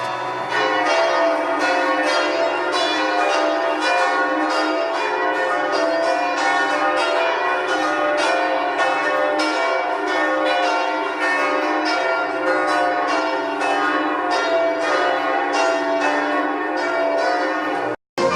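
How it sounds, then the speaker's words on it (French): Many church bells of Notre-Dame de Paris's north tower peal continuously and loudly in a dense, overlapping clang that fills the whole stretch before stopping abruptly. "à l'appel des cloches de la tour nord"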